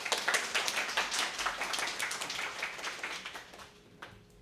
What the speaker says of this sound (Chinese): 先掌声感谢讲者。